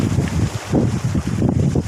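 Strong wind buffets the microphone while fishing by the water in bad weather, a loud continuous rumbling roar with gusting pulses.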